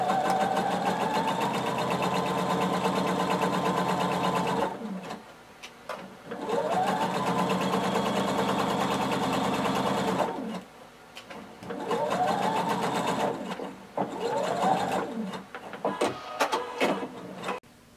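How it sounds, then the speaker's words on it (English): Sewing machine stitching a blazer seam with a 3/8 inch allowance, rapid rhythmic mechanical whirring in three long bursts separated by short pauses, close and clear. "we're going to sew all the way down."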